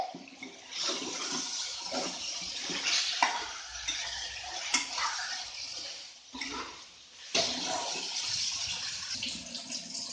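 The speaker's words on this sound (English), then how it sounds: "And we'll be stir frying it well." Mutton with salt being stir fried in a pan for red mutton masala, a steady broadband sizzle with scraping stirring strokes and brief pauses, loud and close, no voices.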